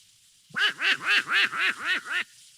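Donald Duck's cartoon voice quacks about seven times in a quick, evenly spaced burst, each nasal squawk loud and close, with silence before and after. A human voice imitates the duck.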